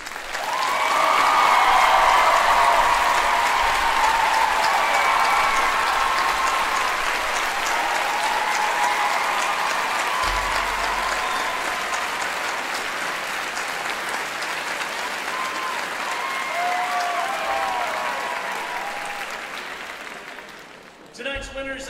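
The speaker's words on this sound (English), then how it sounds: "accept a round of applause for their fantastic efforts" An audience at a 2015 theatre awards gala in Canada's capital gives long, sustained applause, a dense and steady roar of clapping with a few voices mixed in, easing off toward the end.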